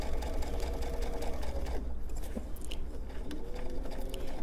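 A sewing machine stitches a fabric face mask in a steady, close run of rapid needle strokes, briefly easing off midway before the motor picks up again.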